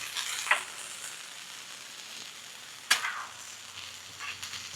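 Ginger beef fries and browns in a pan with a steady, close sizzle, broken by two sharper clinks or stirring scrapes, with no talking.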